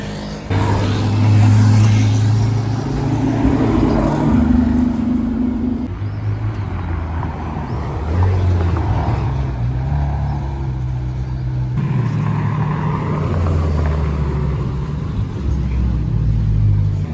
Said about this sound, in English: There's a car, very nice.